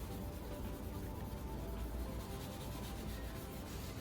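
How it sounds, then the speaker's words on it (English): A green scouring pad with dishwashing paste scrubs a Perodua Axia headlamp to remove its tint, producing a constant close, rough rubbing and scraping texture that holds steady throughout without pauses or talk. "use this green pad, and you can just start scrubbing it all"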